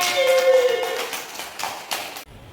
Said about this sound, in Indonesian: Yuk tepuk tangan dulu semuanya.